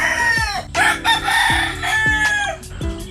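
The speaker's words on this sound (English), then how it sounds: "these roosters are beautiful creatures, but boy, are they loud." Several roosters crow loudly and close by, long harmonic calls overlapping one another, with a few short clucks mixed in.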